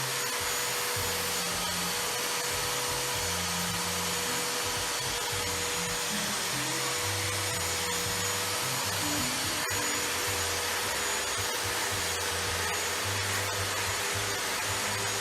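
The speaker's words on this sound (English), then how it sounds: "so this vacuum doesn't scare him at all." A vacuum cleaner runs nonstop near a deaf cat, a steady, even whooshing drone that fills the entire stretch without pause.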